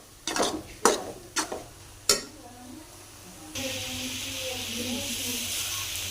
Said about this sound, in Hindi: मलाई डालने के बाद अच्छे से मिक्स कर लेंगे और चीनी भी डाल देंगे हम साथ ही